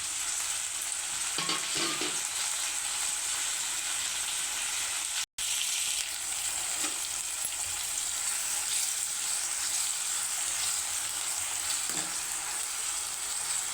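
Tomato and onion pieces fry in a pan with a constant bright hiss, broken by occasional soft stirring knocks and one brief dropout, no talking.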